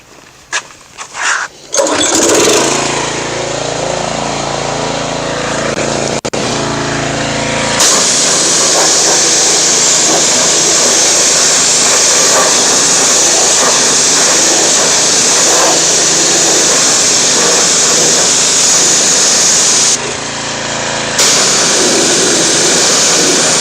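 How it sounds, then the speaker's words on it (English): A pressure washer sprays down a wire wheel as it is cleaned with Citrol 266 wheel cleaner, giving a loud, steady hiss that runs near-continuously after a couple of short bursts, with one brief cutoff before resuming. "Let me hit it with the pressure washer real quick."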